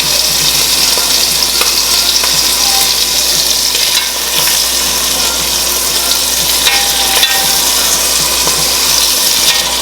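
Loud, steady sizzle and spatter of very thin chicken cutlets browning in a hot pan, a dense continuous frying hiss with small pops and crackles throughout and no voices.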